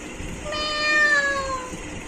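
A person imitates a cat's meow with one drawn-out, rising-then-falling mew of about a second and a half. It comes up close and clear over a faint background, with no other talk.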